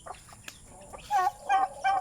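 A few backyard farm chickens cluck nearby in short repeated bursts, the calls getting louder toward the end.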